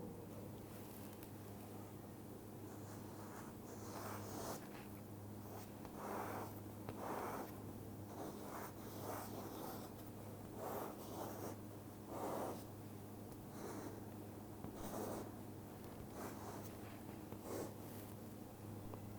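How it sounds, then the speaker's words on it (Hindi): Someone writes a Vedic mantra by hand, making short scratchy strokes in irregular bursts over a steady low electrical hum, with no speech. "वेद मंत्र पहले लिखता हूँ मैं।"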